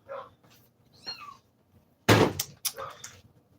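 A muffled, whining cat meows indoors in a few short, faint calls, followed by a sudden louder thump or knock and a couple more brief sounds.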